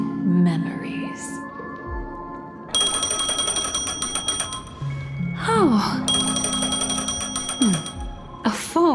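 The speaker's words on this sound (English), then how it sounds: "A phone." A phone ringing in the Honkai Star Rail video game, with two long bursts of bright electronic trilling that each last several seconds, mixed with soft game tones and a brief spoken exclamation.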